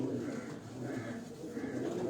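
Combined pigeons on a rooftop in Karachi coo in a soft, continuous low murmur that swells twice in the brief stretch, faint and without talking.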